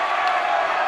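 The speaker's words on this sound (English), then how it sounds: "That definitely pumped up the Shawnee Mission East crowd." A high school basketball crowd at Shawnee Mission East cheers after a dunk, a brief, loud burst of massed voices with some clapping.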